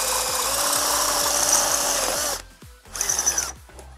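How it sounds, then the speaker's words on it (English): A power drill bores a 7/16 inch hole in a Suzuki Samurai differential housing, whining loudly and steadily for over two seconds, then stopping briefly before a second short burst and a final brief rev, close and alone. "So let's drill that one in there."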